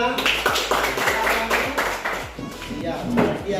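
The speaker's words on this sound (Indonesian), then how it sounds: "boleh sekarang kita beri tepuk tangan" A class claps hands in a classroom lesson, rhythmic clapping in a steady beat with voices mixed in.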